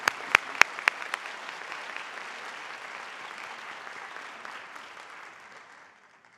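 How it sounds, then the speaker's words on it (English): Audience at a National Honor Society induction ceremony applauds new members, a few sharp, close claps ringing out first, then a steady, moderate wash of clapping that gradually thins and fades away. "great round of applause"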